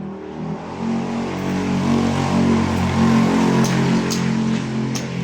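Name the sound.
motorized tricycles passing by on the street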